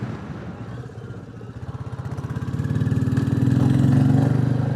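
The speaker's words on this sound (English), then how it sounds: "that air intake and that exhaust note, a lot of these have commented on my film saying it's quite a unique noise" A three-year-old Royal Enfield Classic 350 motorcycle thumps at idle with a distinct intake and exhaust note. Its pulsing beat is close and clear, then rises and thickens as the engine revs up.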